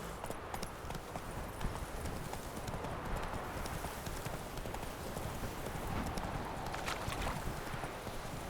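Horse hooves clip-clop steadily at a trotting pace in The Witcher 3, a continuous rhythmic clatter that stays loud and close throughout with no talk over it.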